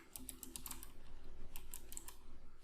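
Quiet, quick bursts of typing on a computer keyboard, two clusters of rapid key clicks separated by a short pause, as a group name is entered in Excel, with no talk.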